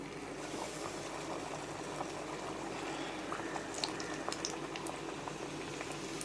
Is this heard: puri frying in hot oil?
yes